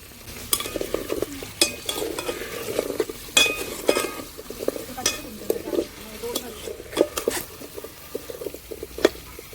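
Drumsticks fry in oil in a pan, giving a soft continuous sizzle. A spoon stirs them, and frequent metallic clinks and scrapes against the pan are heard close by, at moderate volume.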